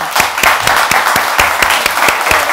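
An audience at a panel discussion with a minister applauds, a dense, close burst of clapping with a steady rhythmic beat running through it.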